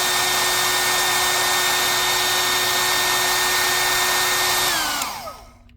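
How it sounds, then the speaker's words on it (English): An old blow dryer roars loud and steady with a constant whine, blowing hot air onto a thermometer circuit, then spins down and cuts off near the end. "that's my old blow dryer test"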